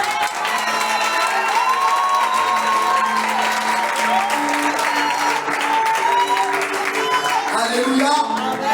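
A church congregation cheers and applauds in a big sustained roar of clapping and shouts, with voices rising and falling over it throughout.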